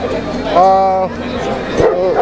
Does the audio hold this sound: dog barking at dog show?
yes